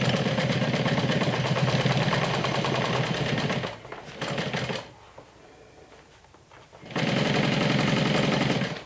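A sewing machine stitches along the top of a crossbody tote's lining in rapid, loud runs. It slows and halts mid-way, stays quiet for a couple of seconds, then starts stitching again at full speed.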